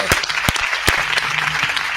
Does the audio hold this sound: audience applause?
yes